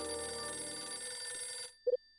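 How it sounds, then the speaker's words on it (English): Telephone ringing in the video game Last Window: a bright electronic bell tone sustained for under two seconds, then stopping, followed by two short faint blips. "It's the phone again."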